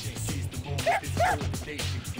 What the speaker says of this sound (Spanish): Buen perro, robando protagonismo como siempre